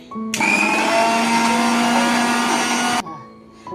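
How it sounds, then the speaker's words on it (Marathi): A mixer grinder grinding soaked urad dal whirs loudly for about three seconds, a high steady motor whine, then cuts off abruptly. "आपण मिक्सरमध्ये बारीक करून घेऊया"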